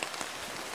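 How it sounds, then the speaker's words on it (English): Steady rain patters on foliage and surfaces in a jungle camp, a soft, even wash of drops heard from under shelter with no other sounds. "It's raining outside and the rain can't touch you."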